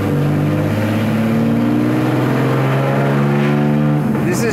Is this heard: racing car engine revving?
yes